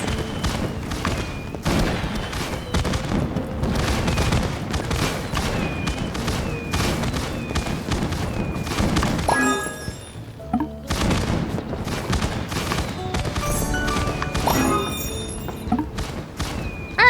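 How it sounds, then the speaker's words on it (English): Video-game fireworks in My Time At Sandrock pop and boom in repeated bursts over a musical backdrop, with a brief lull midway before the volleys resume. "I don't know how you would though with all these freaking fireworks"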